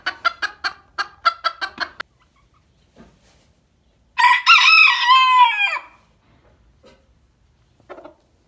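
A young rooster gives one thin, wavering crow after a quick series of sharp clucks, then a few faint clucks follow in an otherwise quiet space.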